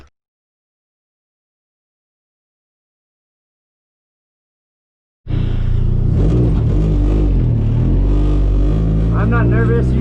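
A Nissan S13 drift car on track at Spirit Peaks roars into sound after five seconds of silence, its engine loud and close, revving with shifting pitch while a voice talks over it.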